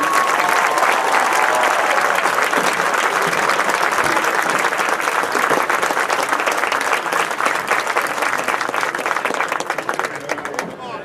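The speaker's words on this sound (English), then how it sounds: "Let's give Pastor Bob Bish a round of applause." Sustained loud applause and cheering from a crowd at a high school varsity football game, honoring a pastor, with dense steady clapping that continues throughout and thins slightly near the end.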